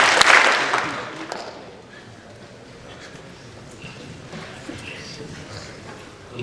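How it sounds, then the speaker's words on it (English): A short burst of audience clapping at a men's youth forum keynote, loudest at the start and quickly thinning out into a low room murmur. "give me 2 claps for Mike Dunn."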